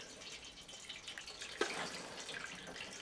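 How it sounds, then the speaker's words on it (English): Water trickles and splashes steadily from an opened drain valve on a home water heater into a bucket, a continuous close hiss with a brief louder spurt midway. "open this little valve right over here. Lefty-loosey to open the valve, and you can see that water is going to start coming out into the bucket."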